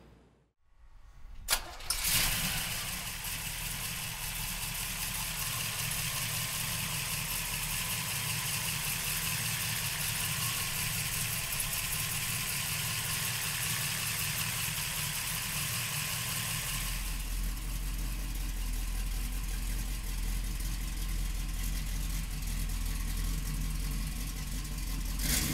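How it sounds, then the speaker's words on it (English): A 1968 Chevrolet Camaro with a 302 V8 cranks briefly and fires up, then settles into a loud, steady rumbling idle that drops slightly in pitch partway through, close by with no talking. "come on up and we'll fire up this 302 for you right now"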